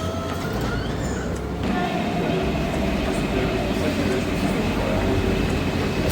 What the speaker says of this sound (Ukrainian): Це метро, в якому немає водія. Воно повністю автоматичне.